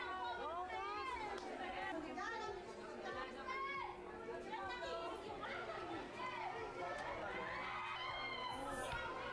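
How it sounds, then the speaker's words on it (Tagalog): Fans scream and chatter at a crowded event, a dense wash of high excited voices and shouts filling the space continuously. "Puro lang sigawan."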